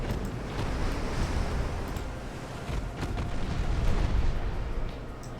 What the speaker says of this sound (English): We may take her out just with the gunfire.